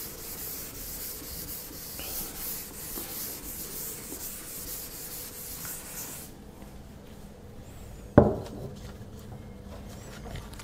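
A chalkboard in a classroom gets rubbed clean, a soft continuous scrubbing that stops partway through, followed by one sharp knock and quiet room tone.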